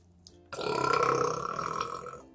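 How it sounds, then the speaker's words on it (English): A single long, loud burp from a woman sitting close by, rising sharply and rumbling for nearly two seconds before fading. "I have to burp"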